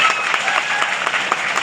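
Audience applause at a Rana Punja Bhil statue installation ceremony in Bamaniya, Jhabua, Ratlam, a dense steady wash of many hands clapping, loud and continuous throughout.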